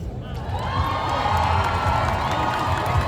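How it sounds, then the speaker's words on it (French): A festival crowd at a cosplay contest awards ceremony cheers, whoops and applauds a prize winner, a loud continuous roar of voices and clapping with high shouts rising over it. "je voudrais qu'on l'applaudisse tous"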